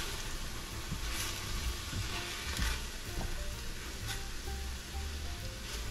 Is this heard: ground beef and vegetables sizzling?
yes